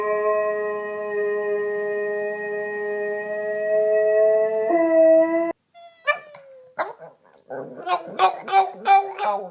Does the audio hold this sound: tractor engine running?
no